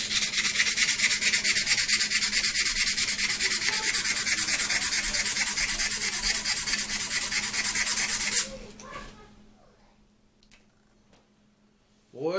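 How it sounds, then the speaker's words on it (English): Metal hand-sanded flat with 220-grit sandpaper after electro-etching a logo, a steady loud scratchy rubbing for about eight seconds before it stops abruptly, leaving a quiet room with faint clicks. "I'm gonna get some sandpaper and clean that up"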